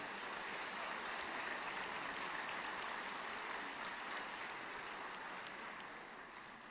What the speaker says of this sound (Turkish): Lütfen onları hep beraber alkışlayalım.